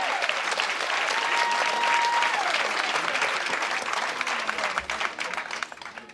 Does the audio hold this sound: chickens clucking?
no